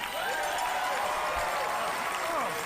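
Applause from an audience at a political victory speech, a steady wash of many hands clapping that continues evenly throughout with some crowd noise and faint voices underneath.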